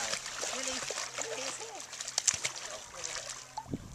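Splashing and sloshing water as a puppy swims, irregular splashes close by with a brief louder burst near the end, heard under excited human voices talking.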